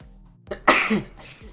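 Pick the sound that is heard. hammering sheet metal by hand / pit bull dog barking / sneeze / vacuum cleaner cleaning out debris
sneeze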